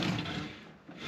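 A drawer slides with a short wooden rub and scrape inside a 1997 Winnebago Itasca Suncruiser motorhome, close and brief, with no talking.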